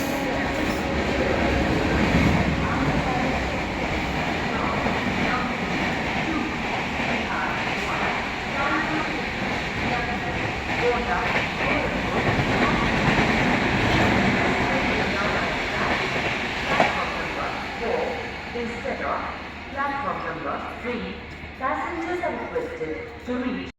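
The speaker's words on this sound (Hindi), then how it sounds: "ट्रेन को पड़ रहा है ओवरटेक यहाँ इटावा जंक्शन पे। लिच्छवी एक्सप्रेस।" The Lichchhavi Express overtakes at Etawah Junction in India, a loud, sustained rolling roar with rhythmic clatter of wheels that eases toward the end, with some voices underneath.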